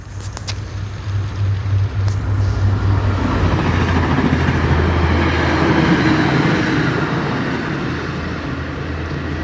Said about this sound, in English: Going right past us right there.